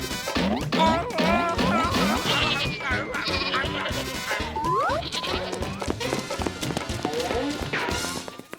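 Many cartoon goats bleat in a loud, dense overlapping chorus, with music-like tones and clip-clop hoof sounds mixed in throughout.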